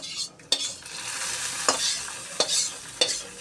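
Browned fried onion dropped into a pot of sizzling dal, a bright close sizzle with several sharp stir scrapes and clinks at intervals.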